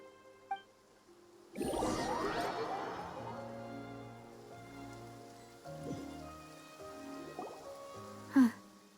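Steady rain patters in the Fontaine region of the video game Genshin Impact, a soft continuous wash beneath the game's tonal music and ambience.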